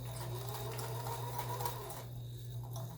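A Kenmore sewing machine stitches continuously at a steady, fast hum with a rapid mechanical rhythm, up close and alone for about two seconds before slowing and stopping.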